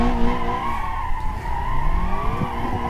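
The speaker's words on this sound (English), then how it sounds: "Are we drifting or what?" Car tires squeal and skid continuously through a drift in the BeamMP driving game, with a loud sustained screech over engine drone and no talking.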